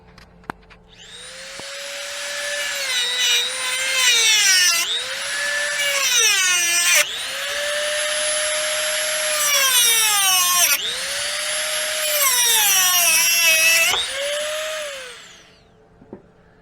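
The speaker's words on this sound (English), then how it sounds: "we're going to cut it with the Dremel tool here with a little cutoff tool" A Dremel rotary tool fitted with a small cutoff wheel slices through a part during a C3 Corvette 200-4R transmission install, a loud high-pitched whine that dips and recovers in several bursts under load before spinning down near the end.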